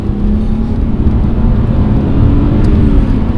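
A BMW 330ci Clubsport, an old-fashioned rear-wheel-drive saloon, drives around a blind corner on a greasy road, its engine holding a steady, loud drone throughout with constant road and motor noise.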